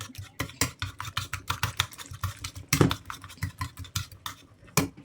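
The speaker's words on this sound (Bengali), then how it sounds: "ডিম, লবণ, হলুদ, চালের গুঁড়ো, পেঁয়াজ, লঙ্কা, এটাকে মিশিয়ে নিলাম।" A utensil whisks egg batter with salt, turmeric, rice flour, chopped onion and chilli in a bowl, giving a steady run of quick, close clicking and tapping strokes in a brisk, even rhythm, with a couple of heavier knocks.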